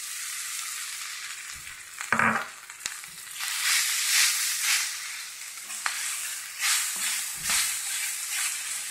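Cooked rice frying in a pan with ghee and pepper powder, giving a steady bright sizzle with occasional louder scraping stirs and clatters.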